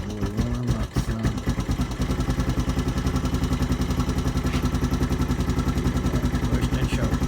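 Four-wheeler ATV engine idling on choke while warming up, a loud, steady low putter with even rapid firing pulses close to the listener, after a brief clatter at the start and no talk.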